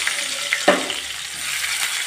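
Chopped onions fry in spice paste in a pan while cooking chicken kosha, giving a steady low sizzle with a brief clatter of stirring partway through.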